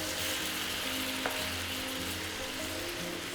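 Honey garlic chicken frying in a pan with soy sauce just added, giving a continuous even sizzle with a faint clink of stirring, heard alone without speech.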